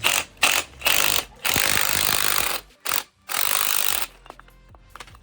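Spring compressor on a BMW F30 strut being slowly backed off, loud close ratcheting bursts in several runs with short gaps, fading to faint clicks at the end.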